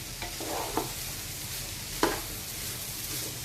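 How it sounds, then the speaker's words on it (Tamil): Mixed vegetables and cauliflower sauté for a vegetable biryani, a quiet steady sizzle in the pan broken by a few soft scrapes of a stirring spoon, with no voices. "இது நல்லா வதங்கட்டும்."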